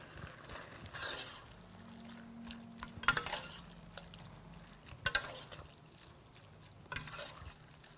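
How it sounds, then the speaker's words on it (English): Pulled pork being stirred and coated in a tomato and chorizo sauce with warm spices, giving soft wet squelching and scraping with a few sharper clatters of utensils, fairly quiet and close. "And we're going to just coat this pork."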